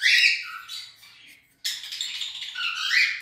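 Baby birds in a nest let out shrill, high-pitched begging squawks in two close, loud bursts separated by a brief pause, with no voices.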